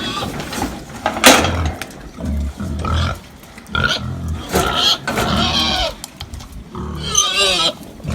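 Pigs grunting and squealing at livestock weighing scales during sorting, close snorts and oinks in bursts with shuffling and clanks, someone talking in between.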